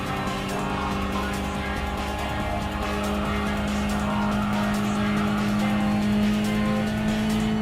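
Race cars in Gran Turismo Sport, a 2015 Mazda Roadster S among them, drone with steady engine whine and tyre noise, holding a constant pitch throughout.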